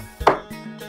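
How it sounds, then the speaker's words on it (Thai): A knife chops soup ingredients for a Lao-style fish soup, giving one sharp, loud chop followed by a couple of softer knocks on the cutting board. "เราจะมาหั่นเครื่องต้มหน่อย"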